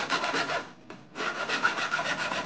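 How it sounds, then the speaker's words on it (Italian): Flat file smoothing a freshly cut notch in fir wood, a steady run of close, raspy back-and-forth strokes with a brief pause partway through. "attraverso una lima piatta andiamo a finire di ripulire e rifinire quello"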